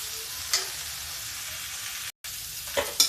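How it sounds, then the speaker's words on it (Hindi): Lobia (black-eyed beans) fry in a pan with cumin and asafoetida, giving a steady close sizzle with a few brief stirring clatters and a momentary dropout. "मैंने जीरा और हींग डाल के लोबिया फ्राई किया है"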